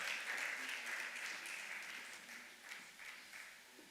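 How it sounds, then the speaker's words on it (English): Round of applause at a South African municipal association gathering as guests take the stage, steady crowd clapping heard from a distance that slowly fades. "Let us welcome them with a round of applause as they ascend the stage."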